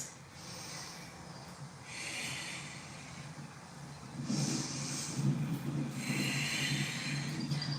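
Slow, deep breaths during a yoga twist, soft inhales and exhales alternating in a steady rhythm, quiet and close against low background noise.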